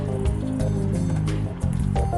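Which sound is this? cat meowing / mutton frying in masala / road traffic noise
mutton frying in masala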